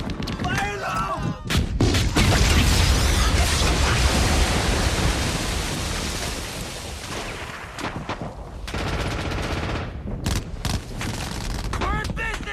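Bangalore torpedo pole charges detonate on the Normandy beach in Saving Private Ryan amid a dense roar of combat, loud sustained blasts and gunfire with brief breaks and shouting voices.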